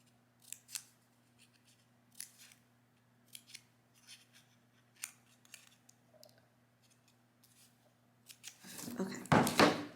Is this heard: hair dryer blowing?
no